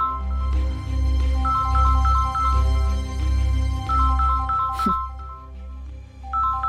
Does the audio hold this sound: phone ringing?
yes